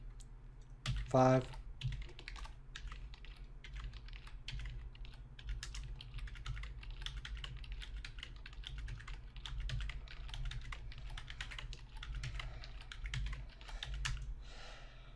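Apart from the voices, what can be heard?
computer keyboard keys being pressed while pasting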